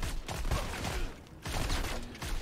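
Gunfire in the first-person shooter game Modern Combat 5, dense bursts of rapid shots with rumbling low-end blasts, loud and continuous across the moment.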